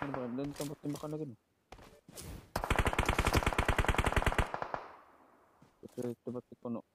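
Automatic gunfire in PUBG Mobile on a phone: a long rapid burst of shots in the middle, with a few shorter single shots near the end, while players talk between bursts.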